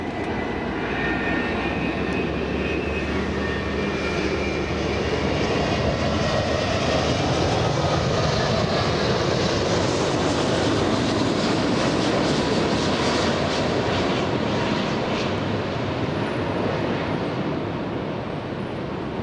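A South Korean Air Premia Boeing 787-9 Dreamliner lands at Los Angeles International Airport, its engines giving a loud, steady roar that swells and holds throughout, with no talking.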